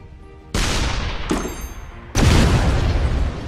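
A grenade explodes in the artillery game Shellshock Live, one of several loud, close booms that strike suddenly and then decay, with a smaller blast between the two big ones.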